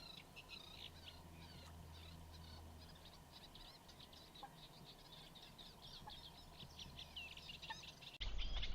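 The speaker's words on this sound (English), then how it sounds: "You can hear there's lots of reed warblers here." Busy, chattering reed warbler song fills a quiet marsh on the Isle of Sheppey, with many small birds calling continuously at a moderate distance over a low steady background hum.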